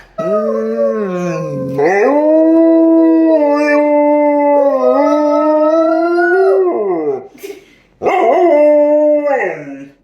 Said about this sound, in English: they're trying to get Izzy to howl in here